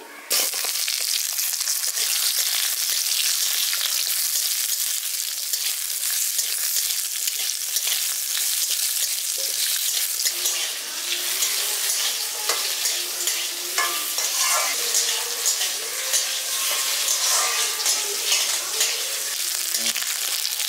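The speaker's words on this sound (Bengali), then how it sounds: "আলুটা এখানে আমি হালকা করে একটু ভেজে নিয়েছি।" Two cut potatoes fry with whole-spice tempering in a pan for a village-style winter vegetable dish, making a loud continuous sizzle while being stirred and scraped throughout, close up with no talking.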